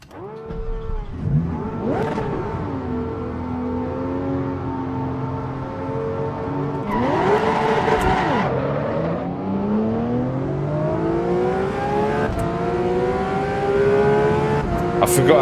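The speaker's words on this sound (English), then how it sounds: "Started the engine, right?" A race car in Assetto Corsa EVO starts up and revs, its engine note rising and falling in sweeping climbs under intermittent talking, growing louder and more sustained toward the end.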